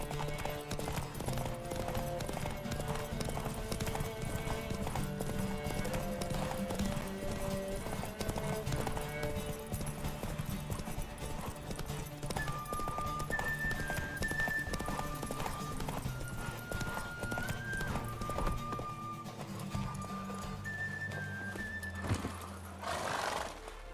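Horse hooves gallop in a steady clip-clop during a race in The Witcher 3 video game, with neighing and game music playing throughout and a whinny near the end.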